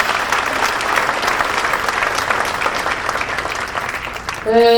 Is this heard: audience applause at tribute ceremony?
yes